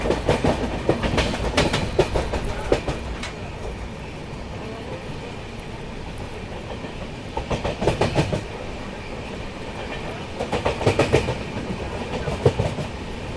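The Bangalore–Bhubaneswar Duronto Express rumbles steadily past, with repeated clickety-clack bursts of wheels over rail joints rising and falling over a continuous rolling roar, heard close at trackside.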